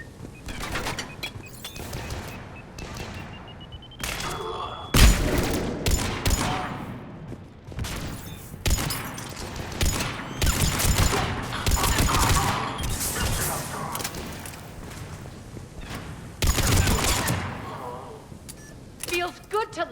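Gunfire erupts in a Mass Effect 3 firefight: sharp, loud volleys of shots in irregular bursts, with brief pauses and a voice speaking between them.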